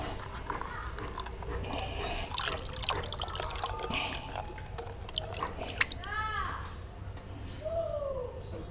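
Water, about ten liters, is poured into a container for mixing a residue-neutralizer solution, giving a steady, faint trickle and splash, with birds chirping outdoors and a voice in the background.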